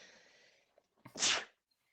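A single sharp sneeze bursts out close by after a faint breathy inhale, preceded by soft murmuring.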